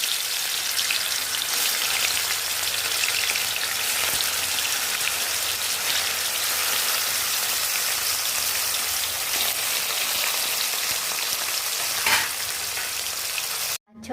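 Fish pieces fry in hot oil in a kadai for an Odia fish curry, giving a steady, dense crackling hiss that continues unbroken and then stops abruptly at the very end.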